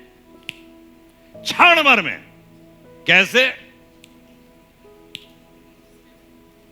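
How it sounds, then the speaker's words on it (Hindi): Several sharp, faint finger snaps click at uneven intervals in a quiet room, with someone speaking between them. "चुटकी भी नहीं बज पाई ठीक से।"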